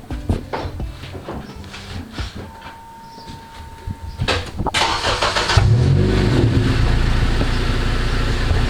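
Acura TSX with its muffler deleted starts up after some clatter and shuffling, then settles into a loud, raspy, steady idle that runs on, close by, with no talk over it.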